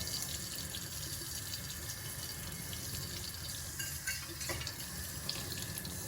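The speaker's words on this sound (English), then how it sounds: "let's pour some cold water on here, see what happens" Cold water poured from above onto a hot 68 oz glass pitcher, a faint, steady stream of splashing liquid running continuously with small drips and clinks, no talking.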